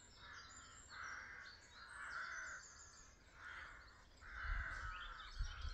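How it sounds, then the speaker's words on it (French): Crows calling near nests scattered all around a walking route, a series of about five faint, rasping caws repeating in irregular bursts, with quieter chirps mixed in and a low rumble toward the end. "ce sont des corbeaux"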